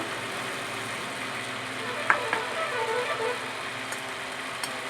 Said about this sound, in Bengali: ভেজে রাখা চিংড়ি মাছটাও আমি দিয়ে দেবো।